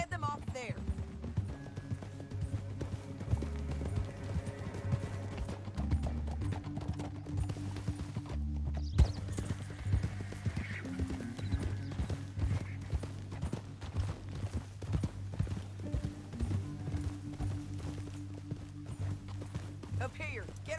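Horses gallop in Red Dead Redemption 2, a steady rapid clip-clop of hooves under a low music bed, with characters talking over the riding.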